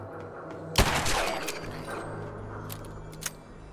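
A gunshot rings out against ghouls in a graveyard in Fallout 4, one sharp loud crack with a lingering tail, then a fainter second report later, no talking.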